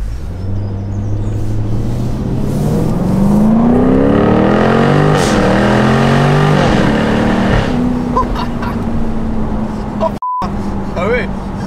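A Jaguar F-Type R P575 convertible with a supercharged V8 revs loudly and close, its engine note sweeping up and down through several climbs before settling into a steady drone.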